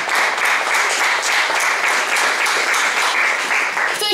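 A concert crowd at a charity gig for a band gives sustained, dense applause, a loud even wash of many hands clapping throughout.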